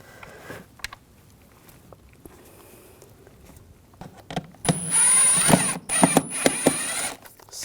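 A power driver snugs down the ignition coil screws on a 2006-2009 Audi S4 with the 4.2L V8. Quiet clicks and handling noises come first, then a loud, close whirring burst runs for a couple of seconds and is broken by short stops.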